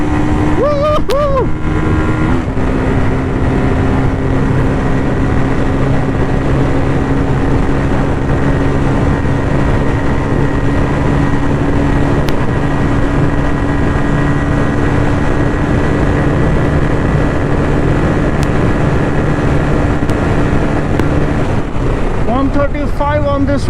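A Bajaj Pulsar N250 motorcycle runs at full throttle, a steady loud engine drone with strong wind rush across the whole stretch, briefly dipping near the start as if shifting gear.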